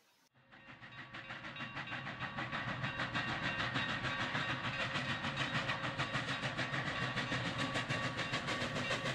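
Union Pacific 3985 steam locomotive running, a loud, steady rumbling chuff with rhythmic clanking building up quickly and holding close and strong throughout.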